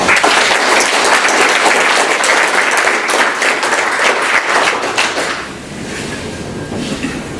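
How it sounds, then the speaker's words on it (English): An audience at a mayor's 2017 State of the City address breaks into loud, sustained applause that fills the room, then thins and tapers off toward the end. "So let's give yourselves a round of applause."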